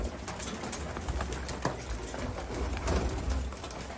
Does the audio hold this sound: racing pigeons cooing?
yes